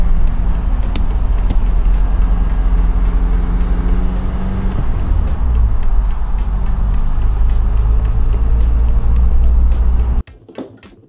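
Toyota 4Runner on a light test drive after a spark plug thread repair, its engine and road rumble droning steadily and loudly for about ten seconds before cutting off abruptly.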